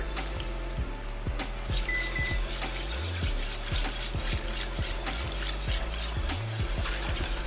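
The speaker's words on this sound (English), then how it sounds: "We wanna make sure that we're whisking it while we're adding them so we don't get any lumps" Milk being whisked into a flour roux in a pan for mac and cheese: rapid rhythmic metal whisk strokes against the pan over a soft continuous bubbling sizzle, close and fairly loud, with no voices.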